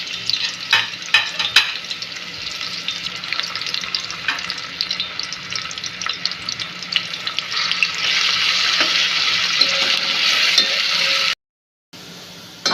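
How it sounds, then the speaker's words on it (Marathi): Onion frying in hot oil in a pot until browned: a continuous, loud sizzling hiss broken by a few stirring clatters early on, swelling brighter toward the end before cutting off abruptly. "आता मला हा कांदा पूर्ण ब्लॅक आणि ब्राऊन कलर येपर्यंत मला तळून घ्यायचा आहे"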